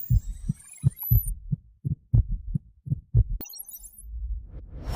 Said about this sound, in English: The heartbeat of the Sentinel.